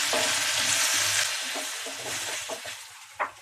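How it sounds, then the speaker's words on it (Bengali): Shrimp (chingri) frying lightly in hot oil in a kitchen pan, giving a steady close sizzle with a few brief stirring clicks and a sharper clack near the end, no talk. "চিংড়ি মাছটা একটু হালকা করে ভাজতে হবে, বেশি ভাজলে শক্ত হয়ে যাবে"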